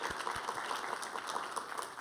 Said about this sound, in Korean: 우리 하나님께 감사와 영광의 박수 올려드리겠습니다.